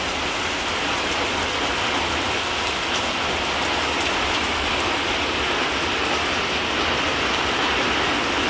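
Heavy rain pours steadily over a small home garden, a dense, loud, unbroken hiss of drops striking surfaces with no pauses.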